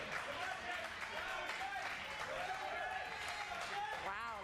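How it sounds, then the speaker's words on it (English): Applause from a studio audience at a live movie trivia competition, a steady continuous wash of clapping held at even loudness throughout, with voices audible faintly beneath it. "a lot of applause for him right now."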